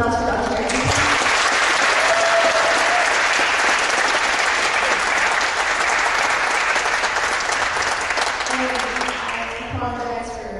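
An audience at a university lecture on Islam and race bursts into a loud, sustained round of applause for the speaker, dense clapping that fills about ten seconds before fading, with a voice briefly at the start and end.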